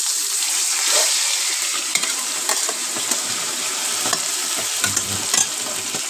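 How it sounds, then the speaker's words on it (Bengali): Fish frying in hot oil gives a loud, dense, steady hiss of sizzling close by, with occasional small clicks and pops scattered through it and no talking. "আর ওদিকে এই যে মাছ ভাজা হচ্ছে,"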